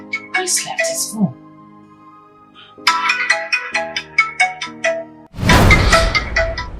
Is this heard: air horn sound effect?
no